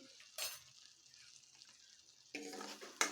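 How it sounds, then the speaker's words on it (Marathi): Spices such as Kashmiri chili powder, coriander powder and turmeric sautéed in oil for a cauliflower dish: a faint sizzle broken by a few short, crisp spoon scrapes and clinks against the pan. "सर्व व्यवस्थित परतून घ्यायचे आहे दोन ते तीन मिनिट मसाले व्यवस्थित तेलामध्ये परतून घ्यायचे"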